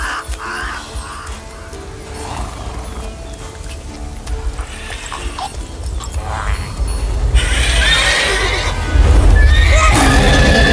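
Roach, the horse in The Witcher 3, whinnies and snorts in the game, with hoof clip-clops and ambient game sounds building louder toward the end.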